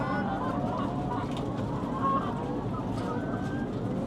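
Hens clucking inside a small, crowded poultry shed, a steady dense chorus of murmuring fowl calls with a faint voice underneath, continuous and close throughout.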